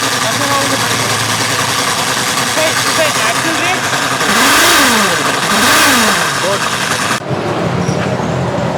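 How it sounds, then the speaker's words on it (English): A loud Suzuki Burgman scooter engine with a faulty belt idles roughly, then revs hard twice in rising and falling sweeps, with voices in the background. "This bike is louder than all the 4 bikes combined in our garage."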